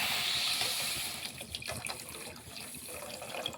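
Water pours in a steady gushing stream, then softens into lighter splashing and trickling as it settles into a pan of sugar.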